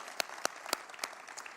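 Brief, fairly faint applause: a handful of distinct claps spaced almost evenly, like a small group clapping at a distance, with no talking.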